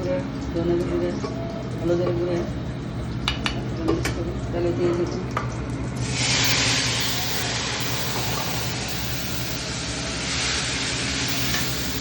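Cumin and whole spices fry in a hot pan for a raw banana and potato curry. Talk dominates the first half, then a loud, steady frying hiss swells and continues with small clinks.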